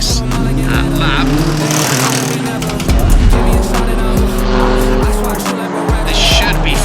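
An F3 single-seater race car laps the Paul Ricard circuit, its engine screaming loud and close with sharp rising and falling pitch through upshifts and downshifts, and commentary runs underneath.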